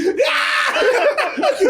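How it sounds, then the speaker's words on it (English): A high, strained scream from a movie scene, loud and close, with wavering cries running almost continuously through under two seconds. "Screaming for no reason."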